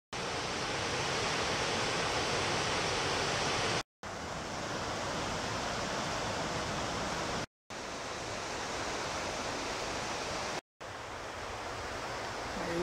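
A waterfall at Jingpo Lake roars as a dense, steady rush of falling water, loud and close, broken only by brief cuts of silence.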